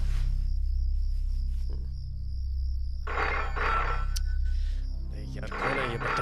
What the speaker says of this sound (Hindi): रात के 12 बज चुके हैं, क्यों बार बार फोन कर रहे हैं?